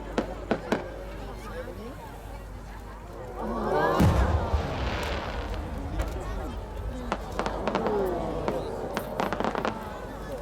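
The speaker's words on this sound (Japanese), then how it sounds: "大輪はきらびやかな小花を咲かす大変優美な作品です。 東京都細谷エンタープライズ細谷啓二作、上り小花栄光の花" Fireworks at the 66th Kachimai fireworks festival, a rising shell that bursts into small flowers by Hosoya Enterprise of Tokyo, crackling pops and booms around the 4-second mark and scattered bangs, under a steady announcer's voice.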